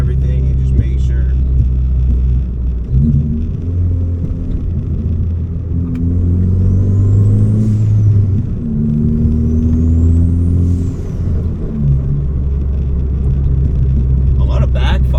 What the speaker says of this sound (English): A lot of backfiring.